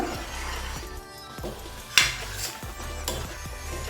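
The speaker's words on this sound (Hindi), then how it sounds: "तो इसलिए लगातार चलाते रहें जब तक ये पूरा सूख नहीं जाता।" Carrot halwa with sugar being stirred in a pan as it dries, a low sizzle with rhythmic spoon scrapes and one sharp metallic clink, close and without talk.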